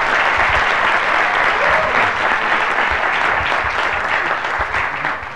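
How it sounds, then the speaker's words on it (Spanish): A large standing audience at a Latin American internet governance forum session breaks into loud, sustained applause, dense and even for the whole stretch before tapering slightly at the end. "tengo que pedirles que se pongan de pie todos y un gran aplauso."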